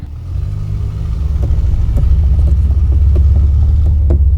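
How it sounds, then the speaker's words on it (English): An Audi engine turns over with a heavy, loud low rumble and rhythmic throbbing while the car is dragged along in gear, steady and close with faint clicks, no voices. "It's just engine's turning over solid"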